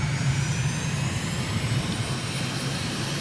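Jet engine on an aircraft in Microsoft Flight Simulator, spooled up to full throttle with wheel brakes on at the Lhasa runway, giving a loud steady roar with a low rumble and high whine, no talk.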